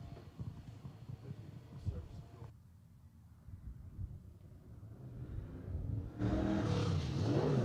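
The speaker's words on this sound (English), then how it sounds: "Does sound like there's a fuel delivery issue in the number 22." Number 22 race car at Willamette Speedway with a fuel delivery issue, its engine heard at a distance, sputtering unevenly before revving louder near the end, with a commentator talking over it.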